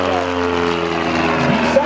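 A Super Decathlon aerobatic airplane's propeller engine drones loudly and steadily throughout, a strong harmonic buzz with a slight pitch shift near the end, with commentary spoken over it.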